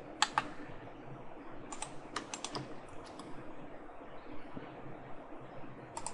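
Bursts of clicky typing on a computer keyboard during CAD drafting, quick clusters of keystrokes separated by pauses, close up over a quiet room hum.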